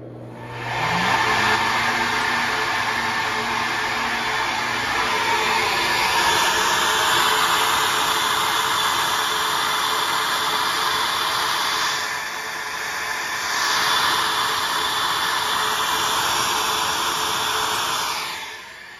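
A flow bench testing a KMJ Assault small-block Chevy cylinder head spins up into a loud, steady roaring whoosh with a faint ringing tone, briefly dips midway, then resumes before winding down, with no talking.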